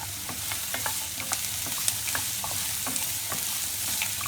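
Green chillies and cut garlic sizzle steadily in hot oil for Chettinad-style vendaikkai (ladies finger) mandi, with a spatula stirring and scraping the pan in frequent light clicks, close and continuous.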